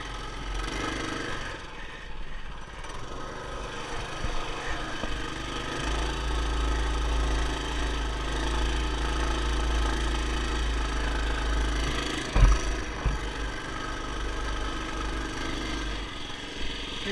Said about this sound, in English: The tires are kind of just spinning.